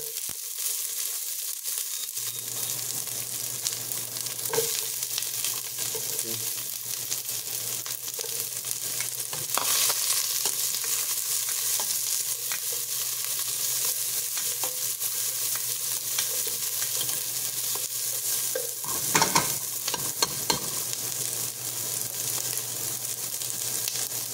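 Onion frying in a pan while cooking salmon head soup, a steady close sizzle that starts after a short quiet moment and carries on evenly, with a few soft stirring clicks and no talk.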